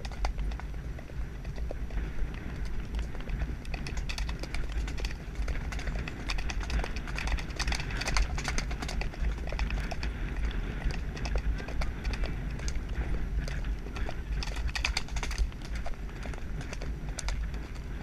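A horse cantering out on a hack, with steady rhythmic hoofbeats on the ground running through the whole stretch amid wind and outdoor noise, with occasional talk from the rider.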